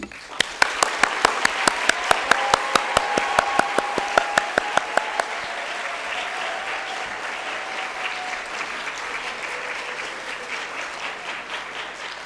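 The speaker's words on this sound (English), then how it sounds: "give a big thanks and big applause to our teacher" Students at a secondary school awards ceremony applaud their teachers, opening with loud, evenly spaced rhythmic claps that give way to a softer, continuous wash of applause.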